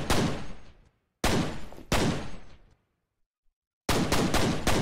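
Pistol fire in the game F.E.A.R. Extraction Point comes in loud, sharp bursts separated by short silences, each burst ringing out briefly, with a final quick string of shots at the end.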